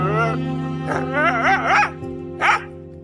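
A dog trapped in a landslide after heavy rain gives strained, wavering whines and yelping barks in several bursts, close and loud over a steady low background hum.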